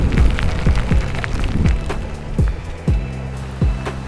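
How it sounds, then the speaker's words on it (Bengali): Heavy rain pours down during a ride on a TVS Metro Plus 110cc commuter motorcycle near the Jhenaidah bypass, a dense, close, steady rush of noise broken by sharp, irregular knocks and thumps, with no talking. "আরে তো জোরে বৃষ্টি আসলো।"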